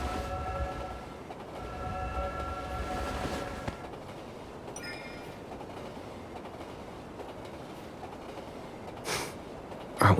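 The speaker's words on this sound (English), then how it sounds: "Hold on tight. The train is about to leave." A train pulls away in the video game Love and Deepspace, opening with a horn-like tonal blast, then a rumbling roll of the cars that fades, ending with a short burst of noise.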